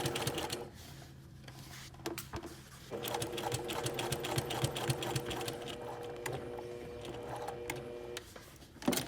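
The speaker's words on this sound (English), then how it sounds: "Now I'm nicely lined up to keep my edge stitching consistent." A sewing machine edge stitches a casual shirt in steady whirring runs. A brief pause breaks the run around the second and third seconds, then stitching resumes close and clear with no talk.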